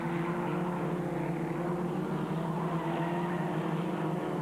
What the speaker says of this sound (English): Derek Butcher locking up there under braking rather, which is a bit untidy